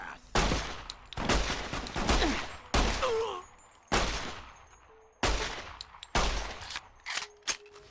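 Gunfire in Fallout: New Vegas, with loud bursts of shots coming in repeated volleys, each one a sharp crack with a tail, separated by short quiet gaps and a few faint tonal game sounds.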